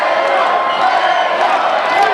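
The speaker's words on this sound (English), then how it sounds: "Crowd chanting his name." A baseball stadium crowd chants and cheers in a steady, loud roar that fills the whole moment without breaks.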